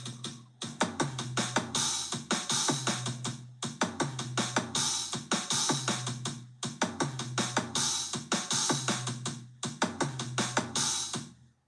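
Drum beat with a syncopated hi-hat pattern, kick and toms, played in repeating bars at a steady tempo, crisp cymbal hits over punchy low drums, loud and close with no talking.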